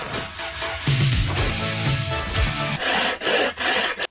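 A hand saw cuts through wood as part of a stage illusion of sawing a woman in half, rasping back-and-forth strokes in a steady rhythm, close and loud.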